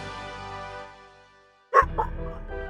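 A dog lets out a couple of loud, close barks near the end, after a stretch of game music that fades out and leaves quiet.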